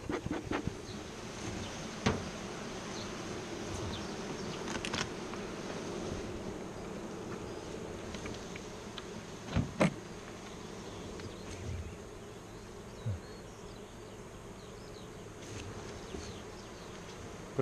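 Carniolan honeybees hum steadily inside an opened hive while a queen is introduced and the colony clusters over her. The droning buzz is close and continuous, with a few louder passes of individual bees.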